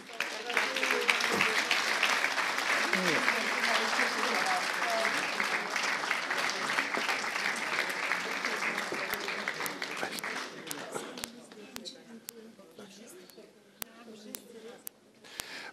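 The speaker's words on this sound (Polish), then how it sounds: "Jeszcze raz podziękujemy Państwu oklaskami" An audience at the Ostrowianin Roku 2011 awards final in Ostrów gives sustained applause, dense and loud at first, then thinning into scattered individual claps toward the end.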